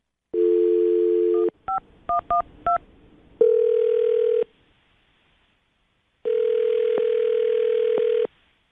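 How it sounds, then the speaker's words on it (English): A phone's tones ring out: a steady dial tone, a quick run of short keypad beeps, then longer ringing tones with a pause between. "Let's dial the phone number right now."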